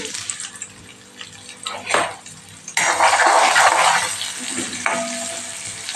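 Chopped onions go into hot oil with asafoetida and start sautéing. A loud sizzle rushes up partway through and stays steady and close, following some lighter stirring and pan noises, with no talk.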